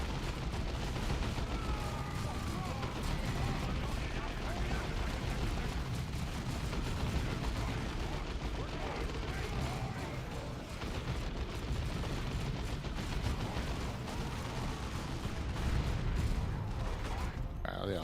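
Space Marine squads in Dawn of War 2 trade dense, continuous gunfire, a constant battlefield roar of rapid shots and blasts throughout, with voices now and then over the combat.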